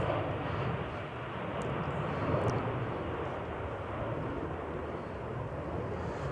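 A jet airliner roars down runway 23 right at Manchester Airport on a stormy day, a steady broad rumble of engines throughout that swells slightly midway, with wind buffeting the microphone.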